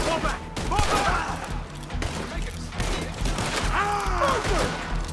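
A shootout in the video game Red Dead Redemption II: rapid bursts of gunfire crackle beneath shouting voices, with a dense, continuous battle din throughout.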